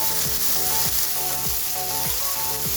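Ginger, garlic and chili paste frying in a pan for a raw peas and paneer dish, giving a steady, close sizzle with occasional stirring scrapes and clinks throughout, no talking.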